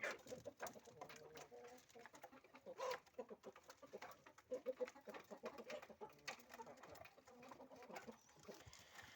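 Busy clucking and soft cooing from a flock of chickens eating, with rapid pecking clicks and scratching mixed in, moderately close and continuous.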